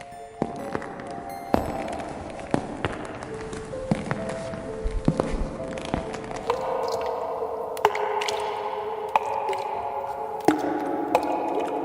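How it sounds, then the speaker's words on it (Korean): Water droplets fall somewhere in a dark basement beneath the stairs, sharp irregular drips with a faint echo spaced a second or so apart over a low, steady background. "어딘가에서 떨어지는 물방울 소리뿐이었습니다"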